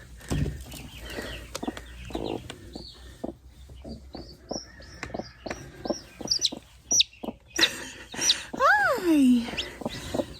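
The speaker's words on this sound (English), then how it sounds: "a broody hen in here in the high tunnel. She's in here. She's quite angry with me right now." An angry broody hen clucks in short repeated bursts close by inside a high tunnel, growing louder and more agitated, ending with drawn-out rising squawks; faint rustling in between.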